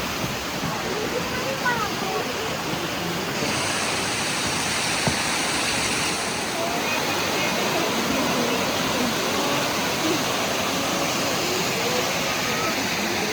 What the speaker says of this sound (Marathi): छान वाटतंय पाण्याचा आवाज.